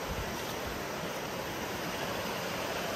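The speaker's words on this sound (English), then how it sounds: "we've got us a waterfall going into the cow pasture here," Flood water pours steadily over a crest into a cow pasture, a broad, continuous rushing wash close by with no pauses or talk.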